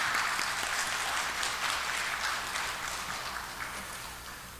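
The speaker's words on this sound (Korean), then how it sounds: "축하의 박수 함께 드리겠습니다." A church congregation applauds, a dense wash of clapping from many hands that stays steady and then slowly fades, heard at a moderate distance with no talking.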